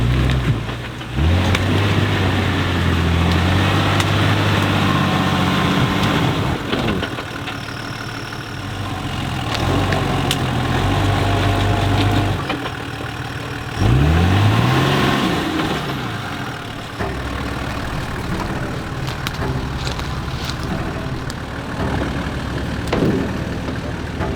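A Jeep Gladiator and a Toyota Land Cruiser grinding up a short, tricky off-road hill climb, their engines droning and idling with repeated low revs and surges, fairly close over the whole stretch.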